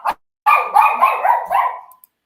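A dog barks sharply once, then lets out a longer, drawn-out series of howling barks, loud and close, with no other sound around.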